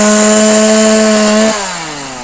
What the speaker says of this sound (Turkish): bu meyve ağaçlarını şimdi teker teker budarken